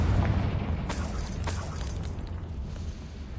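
Confringo fire-blast spell in Hogwarts Legacy, a loud booming blast that rumbles at the start, followed by a few sharp crackling bursts as it fades.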